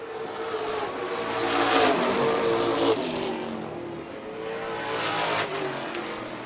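Pro stock drag race car accelerating hard, its engine roaring and pitch climbing, then dipping and rising again through a gear change, loud and steady with no voices.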